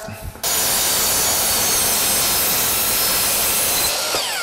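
A power saw cutting a 45-degree miter in a wooden cabinet valance: after a brief quiet start, a loud, steady high-pitched whine and rasp of the blade through wood, held for about three and a half seconds before winding down.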